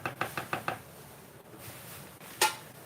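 A spoon taps rapidly against a bowl while adding sour cream to cheesecake batter, five quick knocks followed by one louder clink, close.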